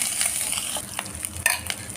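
Ginger and turmeric are stirred in a hot pan, a soft sizzling hiss broken by light scraping and clinking strokes, close and fairly quiet with no voices.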